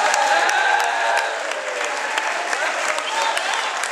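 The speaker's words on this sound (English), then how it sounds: "Big round of applause for Chaz." Steady audience applause at a football club Player of the Year awards night, a dense crowd clapping throughout, loud and close with some scattered louder claps.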